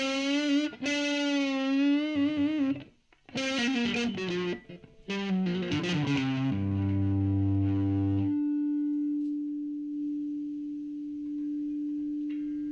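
Distorted electric guitar through an overdriven Monoprice 40 watt amp's drive channel: several crunchy chords and notes, then a long sustained note ringing into feedback-like tone.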